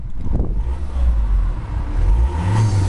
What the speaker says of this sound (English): Start the van up.